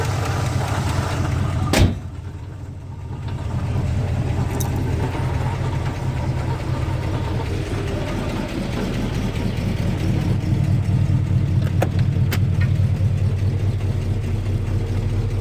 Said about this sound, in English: I've hooked it back up to the carburetor and it's running great, pumping fuel as it should.